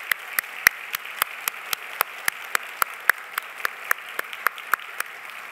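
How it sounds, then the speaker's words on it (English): Applause from a convocation audience honoring faculty and staff, heard as scattered, fairly close individual claps in an uneven rhythm, moderately loud with no voices over it. "So please join me in a round of applause for your faculty and staff."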